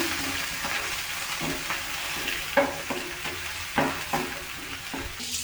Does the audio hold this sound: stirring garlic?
yes